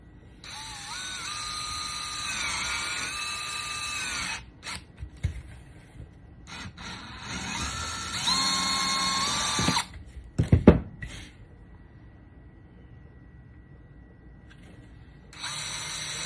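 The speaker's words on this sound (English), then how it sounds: "Put this guy in to drill the holes for the wing and retention." Power drill boring holes in a Sig P320 X-Carry Compact holster, several bursts of high-pitched whirring with pauses between, close and fairly loud, with handling clatter and thuds near the end.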